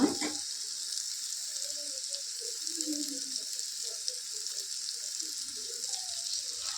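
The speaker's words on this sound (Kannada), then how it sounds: "ಇವಾಗ ಇದು ಎಣ್ಣೆ ಬಿಟ್ಕೊಳ್ಳೋವರೆಗೂ ಚೆನ್ನಾಗಿ ಫ್ರೈ ಮಾಡ್ಕೊಳ್ಳೋಣ" Tomato masala for egg curry fries in oil until the oil separates, giving a steady bright sizzle with faint bubbling and occasional soft stirring under it.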